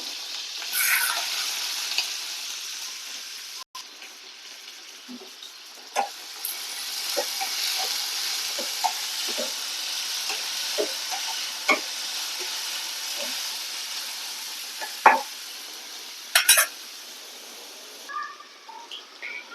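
Chopped green chillies and onions fry in a pan with a steady close sizzle, broken by occasional light stirring clicks and taps, and nobody talks.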